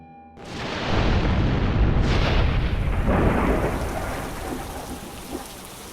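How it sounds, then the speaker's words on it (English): A thunderstorm in a darkening forest: a deep thunder crash breaks in suddenly and rolls on with heavy, steady rain pouring down, loud and close, slowly easing toward the end with no voices. "The raging storm that had been on their doorstep the entire day was now here"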